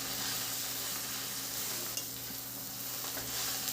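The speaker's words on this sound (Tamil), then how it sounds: "அதையும் சேர்த்து நல்லா வதக்கி விடலாம்" Onion, green chili and drumstick leaves sauté in a pan, giving a steady close sizzle with soft stirring scrapes throughout.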